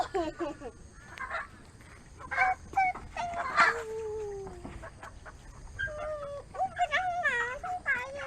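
Chickens on a small Thai farm where wild boar are raised, with scattered clucks and short calls at moderate distance, mixed with faint voices of people talking nearby.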